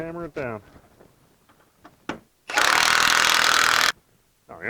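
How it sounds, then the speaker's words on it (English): Metal tool hammering a Fisher EZV snowplow mount onto a service truck, with a long loud burst of harsh broadband clatter after a few short sharp knocks, then quiet; a voice speaks briefly at the start. "Let's hammer it down."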